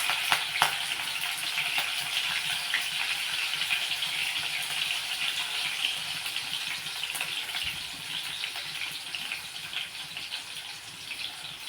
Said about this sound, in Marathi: मिरच्या पण छान तडल्या गेल्या आहेत